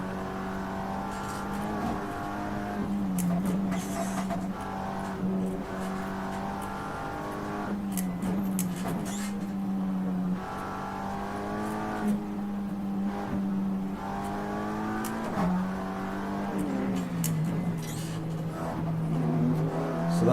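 A BMW race car leading on the Nordschleife is heard from a following car, engines droning steadily with repeated rising and falling revs as gears change and corners pass, moderately loud, with no speech.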